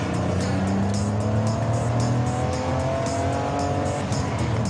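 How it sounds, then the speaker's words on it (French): A smooth, steady BMW 325 inline six-cylinder engine drone with rising pitch as it accelerates, continuous and close, with no voices. "difficile de rester raisonnable avec un moteur aussi musical. Un beau 6 cylindres en ligne,"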